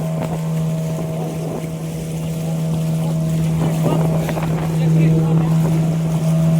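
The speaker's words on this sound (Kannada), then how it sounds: "ಅವ್ರು ಬಂದ್ರು ನೋಡಿ ನಮ್ಮ ಟೂರಿಸ್ಟ್ ಬೋಟ್" A tourist motorboat passes on water near a mangrove forest, its engine a steady droning hum growing slightly louder, with wind buffeting the microphone and a voice talking over it.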